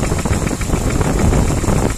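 A VAZ 2103 engine runs at idle with a worn alternator bearing, giving a steady mechanical hum and whirring drone with faint irregular rattling, loud and close.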